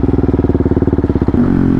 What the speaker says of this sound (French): il y avait le bruit du moteur